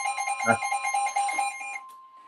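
An electronic weather alert alarm sounds a rapid series of high, piercing beeps for a couple of seconds, then cuts off abruptly.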